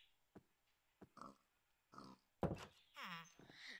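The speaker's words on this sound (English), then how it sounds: "Oh, pigs. Go free." Pigs grunting in the video game Minecraft, a few short, faint snorts and oinks spaced apart in a quiet scene, with a brief voice near the end.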